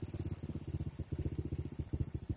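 A Honda Supra underbone motorcycle idles during carburetor tuning, its small engine putting out a quiet, steady, rapid chugging pulse, close and on its own.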